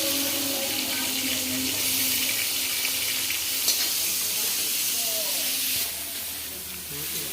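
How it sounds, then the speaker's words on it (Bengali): Small shrimp fry in hot oil with a continuous, close crackling sizzle and a few faint clinks from the pan. "এই ছোট চিংড়িটা ভেজে নিচ্ছি।"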